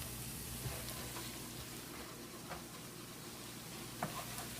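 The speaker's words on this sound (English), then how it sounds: "I have the onions that were diced with butter combined in a saucepan with a little bit of olive oil" Diced onions cooking in butter and a little olive oil in a saucepan, a faint, steady sizzle and crackle throughout with occasional soft pops, quiet and continuous.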